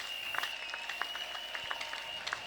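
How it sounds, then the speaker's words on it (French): A Bible seminar audience claps loudly, a steady patter of many hands with sharper individual claps standing out, against a constant high electronic whine. "Acclamez très fort."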